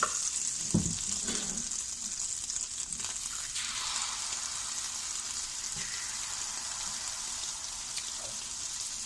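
Keto pancake batter of eggs and cream cheese hits a hot pan and settles into a steady soft sizzle, with a few faint clinks near the start and no voices.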